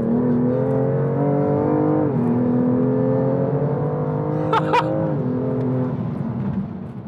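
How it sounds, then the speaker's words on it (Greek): A BMW M2 Competition fitted with an Akrapovic exhaust holds a loud, steady engine drone with rising and falling revs and a brief crackle near the end, close and continuous with no talk. "Βγάζει ένα φοβερό μεταλλικό γρέζι στο γκάζι όσο πατάς και όταν αφήνεις, σκάει, λες και κάνει γιγάντια popcorn."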